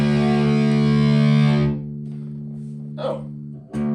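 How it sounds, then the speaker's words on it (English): An electric guitar with a distortion effect rings out a thick, buzzing sustained chord that fades after a second and a half, followed by a few faint scratchy string noises and a brief pick sound. "that's the distortion knob."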